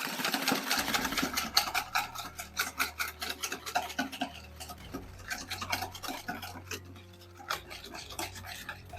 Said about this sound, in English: Now we mix it. Whisk it.